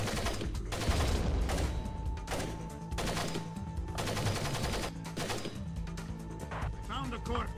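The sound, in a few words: gunfire in Splinter Cell video game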